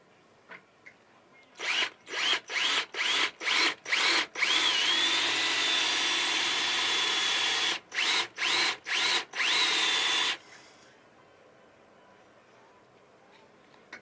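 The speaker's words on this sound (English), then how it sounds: "So the best way to do this is to drill one side at a time." A power drill whines through wood in a series of short bursts, then runs in a long continuous stretch, more short bursts, and another long run before stopping.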